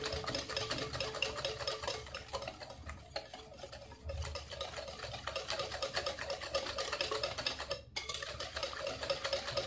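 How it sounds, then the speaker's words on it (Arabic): Cake batter is stirred in a bowl, giving a continuous soft scraping and swishing with rhythmic strokes close up, one brief pause near the end, and no voices. "نقلبو مزيان"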